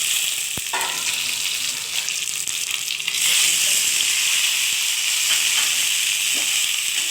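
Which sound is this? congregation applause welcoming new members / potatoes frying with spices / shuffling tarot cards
potatoes frying with spices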